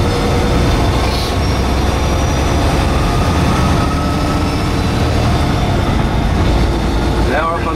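A truck engine drones loudly and steadily while shifting up through the gears onto an interstate, a heavy low rumble filling the whole stretch with road noise, and a voice talks over it.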